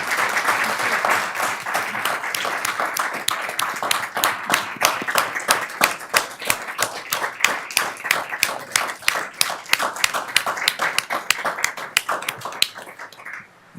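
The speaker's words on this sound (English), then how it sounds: "Let's give them a round of applause as they're coming." Applause for student council members coming up to the podium at a Des Moines school board meeting: steady, fairly close hand clapping from a modest crowd, individual claps distinct, continuing for several seconds before thinning out.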